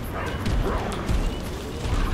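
A companion dog in the video game Remnant 2 yips and barks amid a dense, noisy mix of in-game sounds, the barks short and fairly close but partly masked.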